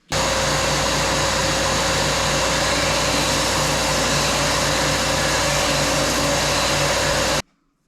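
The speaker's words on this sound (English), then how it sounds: "I'm going to use my tabletop sander for that" A tabletop sander contours the edges of a tenor ukulele body, giving a loud, steady motor whir with a grinding hiss that holds unbroken for about seven seconds before cutting off, with no talk.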